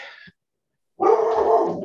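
Dog barking indoors, a short yip followed after a pause by a louder, sustained bark or growling vocalisation close to the microphone, heard alone.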